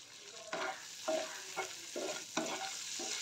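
Shrimp heads frying in a pan with salt and turmeric, stirred in a steady run of scraping strokes about every half second over a soft continuous sizzle, close and fairly quiet.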